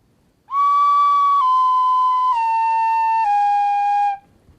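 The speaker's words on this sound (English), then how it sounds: "you can hear that the pitch goes down because essentially the flute becomes longer" A single flute tone held for about four seconds, stepping down in pitch three times as more holes are closed, clear and steady with no talking.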